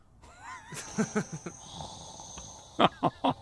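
AI-generated snoring-like wheezes and snorts, a few rhythmic bursts of raspy breath with a thin tonal hiss, fairly close and quiet.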